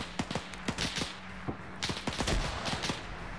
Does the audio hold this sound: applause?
no